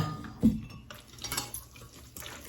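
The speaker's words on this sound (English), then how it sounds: "Mix it together." Rotini pasta with broccoli sauce stirred in a pot: a spoon knocks the pot once, then soft, wet scraping and sloshing of the thick pasta runs on, close and fairly quiet.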